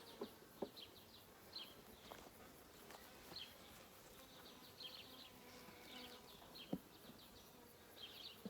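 Bees buzz around an opened beehive, a faint, steady insect drone with individual bees passing close now and then, plus occasional soft clicks and knocks.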